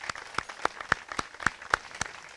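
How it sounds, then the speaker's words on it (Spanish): Scattered applause from a small theater audience, individual claps landing in a loose, uneven rhythm, moderately loud and fairly close. "pido un fuerte aplauso"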